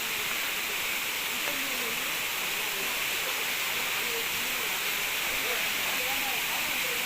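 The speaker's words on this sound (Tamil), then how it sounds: "சவுண்டு கேட்குதா? அந்த சத்தம் அருவியை நோக்கி வந்துட்டு." Kuttupatti waterfall pouring as a steady, dense roar of falling water that fills the whole scene without a break, with faint voices in the background.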